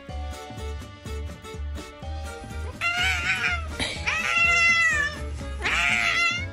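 An orange cat meows loudly in complaint, with several drawn-out, wavering yowls over steady rhythmic background music.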